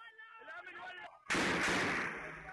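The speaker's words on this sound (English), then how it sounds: "And the gunfire and shelling is from government troops." Gunfire and shelling from government troops during fighting in Syria: after a stretch of voice, a sudden loud, dense blast-like burst hits and keeps rumbling broadly before easing slightly toward the end.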